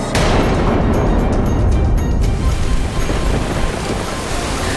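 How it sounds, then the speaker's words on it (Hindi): Violent flood waves in a storm around a boat, a loud roaring rush of surf and wind that stays steady throughout, with faint talk briefly near the start. "जैसे जैसे नौका आगे बढ़ रही थी, प्रलयकारी लहरें और अधिक भयावह हो रही थी।"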